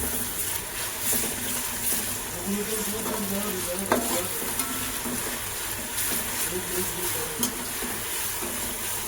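Homemade ginger garlic paste and chopped green chillies frying in a pan for prawn biryani, a steady close sizzle with intermittent scraping stirs and a few sharp utensil knocks.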